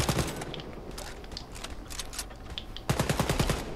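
Rapid automatic gunfire in the Wolfenstein Youngblood video game, continuous bursts throughout with a heavier, louder stretch near the end, plus scattered mechanical clanks and game effects.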